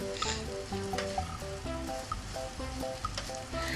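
Rice stir-fried with chilli paste in a wok sizzles steadily throughout, with repeated soft scraping from the spatula tossing the grains.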